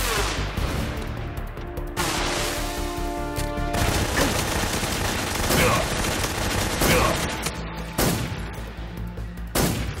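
Tommy gun bursts in Metal Gear Solid 3, loud rapid automatic fire in repeated sharp volleys across the scene, mixed with other gunshots, crashes and a brief voice.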